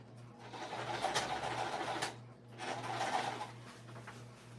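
A sewing machine works its way through a crossbody bag in two moderate whirring runs with a steady low hum beneath, the bursts broken by a brief pause.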